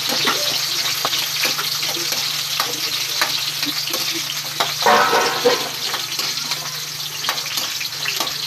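Chili and onion fry loudly in a pan, giving a dense, continuous sizzle close by. Occasional stirring scrapes sit under the hiss, and there is no talk.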